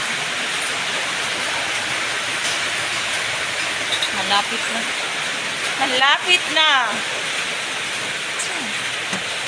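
A pot of water heating toward a boil gives off a steady, even hiss throughout, while a voice speaks briefly over it partway through.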